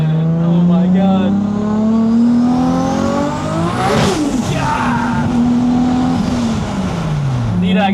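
A 1600-horsepower Toyota Supra street car drives and revs hard. The loud engine climbs through several gear changes, with rising and falling whine heard from inside the car. Voices talk faintly underneath.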